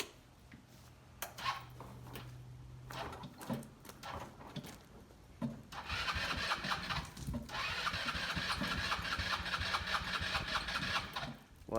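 A Polaris RZR 170 with a weak battery cranks slowly in short, labored bursts, then catches and runs with a steady, buzzing small-engine idle for several seconds, close and fairly loud.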